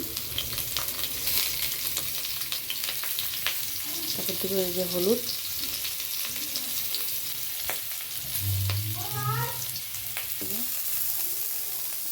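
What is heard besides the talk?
potatoes frying in hot oil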